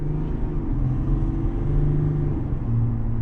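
A low, rumbling 3.0L turbo diesel engine in a 2021 Chevrolet Suburban idles steadily up close, with a throaty pulsing drone.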